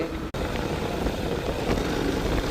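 A motorcycle engine drones steadily and loudly while riding, with wind rushing over it and a brief cut-out near the start.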